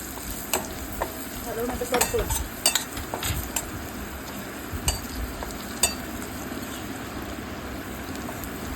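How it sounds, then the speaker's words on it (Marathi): Spices (red chilli, garam masala, coriander powder) being stirred as they fry in a pan, soft continuous sizzle with scattered scraping clicks of a spoon against the pan. "इथे करपू नये म्हणून मी हलवून घेते आहे"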